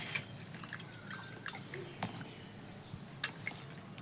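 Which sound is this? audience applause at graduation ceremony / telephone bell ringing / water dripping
water dripping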